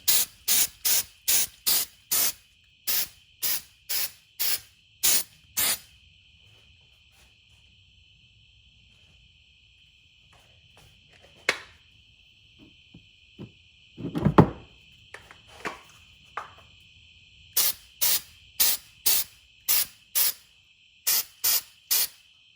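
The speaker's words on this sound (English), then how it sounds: "I'm going to take a can of texture paint and just kind of give it a little bit of that" Texture paint sprays from an aerosol can in a rapid series of short hissing bursts, then a quiet pause with a few clunks and rattles, before another run of quick sprays, close and loud.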